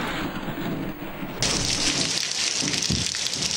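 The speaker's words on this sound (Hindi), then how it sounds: "तेज़ हवाओं के साथ बारिश हो रही है" Heavy rain pours down under strong winds in a news report. The hiss of rainfall grows abruptly louder partway through as the gusts strengthen.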